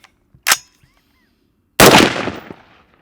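A rifle fires a 55 grain projectile: one loud, sharp shot with a decaying outdoor echo, preceded by a short, fainter crack, with no talk.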